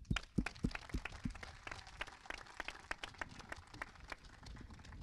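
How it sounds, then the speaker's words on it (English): Faint, sparse hand claps scattered unevenly from a small group at the launch ceremony for the barge Ellis Island, thinning out over a few seconds. "You all deserve a round of applause."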